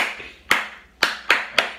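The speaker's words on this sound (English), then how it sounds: "Clap." Hand clapping in a children's music lesson song, four sharp, distinct claps spaced roughly evenly, close and clear over a soft background.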